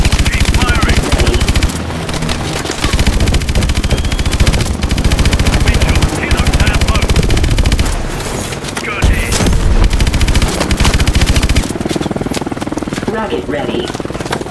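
Dense, loud gunfire and missile barrages fill a Call of Duty: Advanced Warfare battle, with rapid automatic fire and heavy explosions pounding almost nonstop throughout, the combat constant and close.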